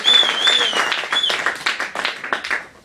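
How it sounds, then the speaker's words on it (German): A small audience gives a short round of applause. Scattered individual claps thin out toward the end, and a high whistle cuts through at the start. "vielleicht mal einen kleinen Applaus"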